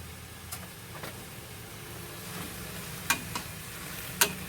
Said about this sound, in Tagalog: Mix lang natin.